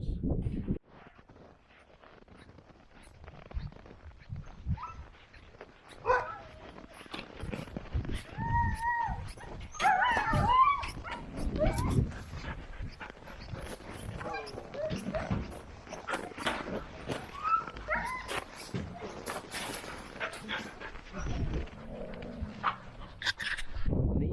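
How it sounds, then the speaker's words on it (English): Alaskan Huskies at a sled dog kennel bark, whine and yelp in a busy, overlapping chorus, some dogs close and others farther off, with rattling and scuffling throughout and occasional higher whimpers. "They are Alaskan Huskies."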